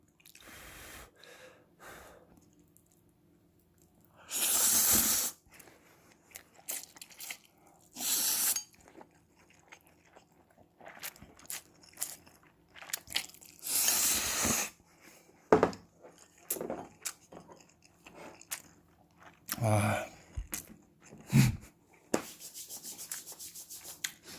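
Crunchy squid ear being chewed after a shore-fishing trip: bursts of crisp, wet crunching come up close in several clusters, separated by quieter gaps with soft breathing, and no talking.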